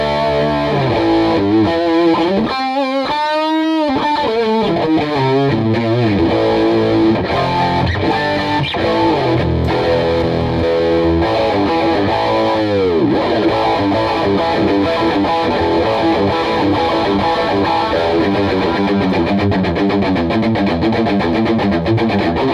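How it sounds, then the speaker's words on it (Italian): Distorted electric guitar through an AmpliTube germanium transistor treble booster on its 70s setting, with a slightly grainy, harsh tone. Chords and single-note lines ring out loud and continuous, with no talk. "Treble Booster con transistor al germanio caratterizzato da un suono leggermente più granuloso e aspro"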